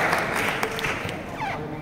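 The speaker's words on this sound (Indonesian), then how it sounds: "Tepuk tangan dong buat teman-teman" Brief clapping for students at a gathering in a council building, moderate and scattered under a murmur of voices, lasting under two seconds.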